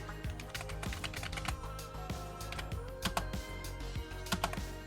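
Havit computer keyboard being typed on during Fortnite play on a Nintendo Switch, with quick irregular key clicks and clacks, fairly close and soft, over a faint steady background hum.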